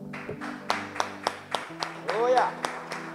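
A church congregation clapping together in steady rhythmic claps, mixed with voices and singing-like tones in a reverberant hall.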